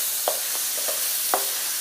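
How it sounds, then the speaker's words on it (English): Vegetables for fried rice sizzle steadily in a hot pan, a close broadband hiss broken by a few sharp scraping stirs, with no talking. "you hear those vegetables just sizzling away"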